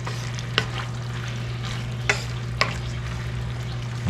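Spicy snow peas sizzle steadily in a hot pan while a spoon stirs them, giving a few sharp scraping knocks over a constant close frying hiss and low hum.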